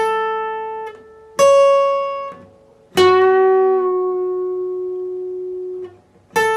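Electric guitar playing the first part of a solo, a few sustained single notes plucked one after another with long ringing decays and clear gaps between them, close and alone.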